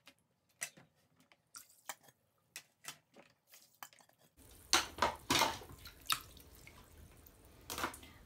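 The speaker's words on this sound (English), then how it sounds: "fill the bucket back up with water again" Water runs into a bucket while aquarium equipment is being cleaned, a steady splashing pour that starts abruptly halfway through, after a run of scattered drips and small clinks.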